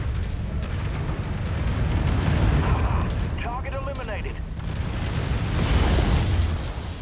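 Rumbling explosions of destroyed targets in the mech combat game Mechwarrior 5, heavy low booms swelling and fading in waves, with a brief garbled radio-like voice partway through.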